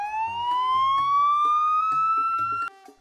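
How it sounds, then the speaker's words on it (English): An ambulance siren wails loud and close in one long rising tone that cuts off abruptly near the end. Faint background music plays beneath it. "Finally, the ambulance arrived."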